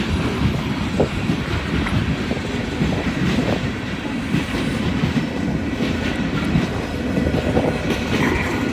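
A long freight train with locomotives rolls steadily past nearby on a windy day, a continuous loud rumble with rhythmic clickety-clack of wheels on rail joints throughout.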